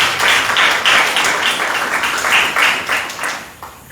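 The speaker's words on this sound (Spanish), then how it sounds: "Un fuerte aplauso para el profe" Audience applause for a professor at a university social work event; dense, steady clapping from a crowd, loud and sustained, tapering off toward the end.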